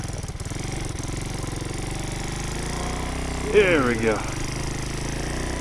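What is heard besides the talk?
custom 1967 Honda CT90 motorcycle with YX140 engine riding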